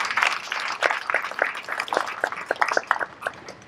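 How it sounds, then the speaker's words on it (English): Audience at an open-mic event at the Nairobi National Museum clapping in a brief, scattered burst of handclaps, fairly close and lively with uneven rhythm. "Let's give Shiro a round of applause"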